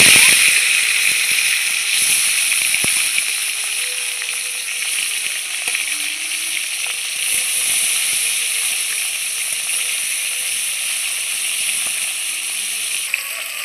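Bhola fish fry in hot oil with a loud, steady sizzle and crackle that runs unbroken throughout, with faint spits and pops scattered through it.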